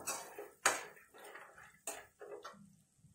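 Drumstick leaves fry in a pan over a low flame for chutney, with close, irregular bursts of clinking and scraping as they are stirred, and a soft sizzle between the bursts.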